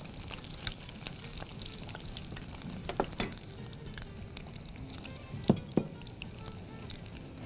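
Chicken vegetable fritters fry in hot oil, a steady soft sizzle and crackle with occasional sharper pops and light clinks of a utensil, fairly close.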